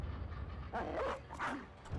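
Dogs barking in the fantasy strategy game Battle Brothers, a few sharp barks and yips clustered mid-clip over a steady low game rumble.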